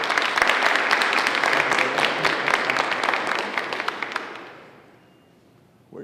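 Audience applause at a public investment announcement, loud, dense clapping from a crowd that holds steady for about four seconds, then thins and fades out to near silence.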